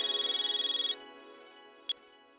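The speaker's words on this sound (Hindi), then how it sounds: "गणपत भाऊ को फोन करके ऑर्डर दे देती हूँ।" A phone rings on an outgoing call, a burst of fast pulsing electronic tone for about a second, then a held ringback hum and one short beep, faint and with no talking.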